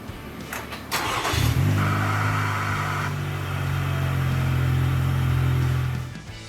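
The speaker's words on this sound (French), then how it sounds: "démarrez le moteur." An engine on a start-stop engine test bench cranks briefly, then catches and settles into a steady, loud idle hum that runs for several seconds before cutting off.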